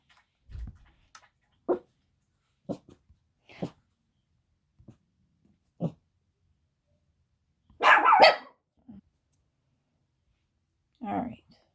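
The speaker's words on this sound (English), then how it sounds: "Every time the dogs bark, I'm just gonna pause it" Dogs indoors in a house give short, sharp barks, scattered singly and in small clusters with quiet gaps between, one louder double burst near the middle.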